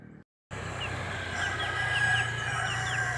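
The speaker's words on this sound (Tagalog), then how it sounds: "Natatakot sa akin yung sisiw." Chickens and a chick in a rural backyard, with soft clucks and a few thin high chirps over a steady outdoor hum, after a brief silent gap at the start.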